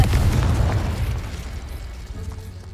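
A Confringo spell explosion in a Harry Potter video game gives a loud, close, rumbling boom that roars for a couple of seconds and slowly fades.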